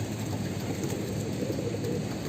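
A domestic pigeon coos softly in a loft while young squabs are being raised, with the low cooing blurred under a steady wash of broadband noise and no clear talk.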